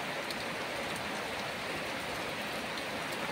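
Heavy, steady rain falls with no wind or thunder, a dense, even hiss of drops drumming on surfaces that stays constant throughout.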